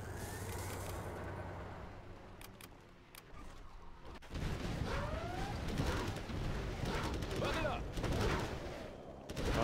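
Battle noise from Command & Conquer Generals Zero Hour during a 3v3 match: scattered gunfire and artillery blasts over a continuous rumble. Several sharp bursts are heard, then denser fire.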